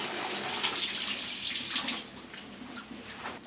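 Clothes are rinsed in water in a bucket, with a continuous splashing, sloshing wash that is loud for about two seconds and then eases to a softer trickle, with no voices.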